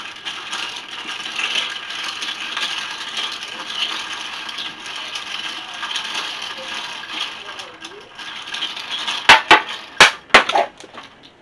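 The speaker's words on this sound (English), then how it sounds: "take your stir and you stir your straw and you stir" A straw stirring a blue cocktail in a glass: a soft background hiss, then several sharp ice-and-glass clinks cluster near the end.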